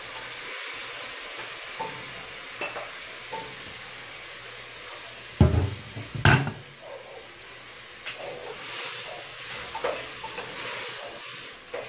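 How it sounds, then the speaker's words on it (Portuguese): Meat sautéing in a pot with all its seasonings and onion for soup, a soft frying hiss broken by a couple of sharp clanks and stirring scrapes partway through. "Agora nós vamos refogar a carne com todos os temperos"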